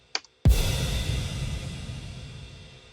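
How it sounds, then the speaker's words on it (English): A cinematic impact layered with a Nexus Ballad Grand Piano patch lands as one loud, boomy hit after a faint tick and a moment of silence, then trails off in a long, deep, decaying tail. "I chose to introduce this part with some big impacts to give it that boomy feel"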